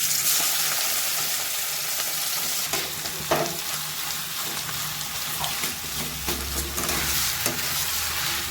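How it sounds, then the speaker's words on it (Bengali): Vegetables sizzle steadily in hot oil seasoned with panch phoron for a Bengali vegetable chop, with a dense close frying hiss, occasional scraping stirs and soft clinks throughout. "এর মধ্যে আমি ভেজিটেবিলগুলো অ্যাড করে দেবো সব"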